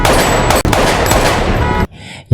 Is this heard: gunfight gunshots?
yes